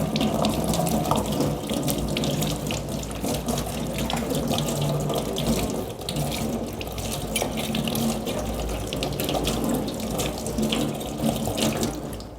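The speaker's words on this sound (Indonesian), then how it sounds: "alatnya kita bersihkan di air mengalir" Steady running tap water splashing into a sink as medical instruments are rinsed, continuous and fairly loud throughout, with no talking.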